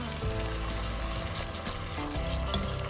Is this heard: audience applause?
no